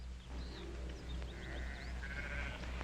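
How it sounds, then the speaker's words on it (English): Several sheep bleat in a western TV drama, the wavering calls rising over a steady low rumble of background noise with no talk. "Drummond, get those sheep out now."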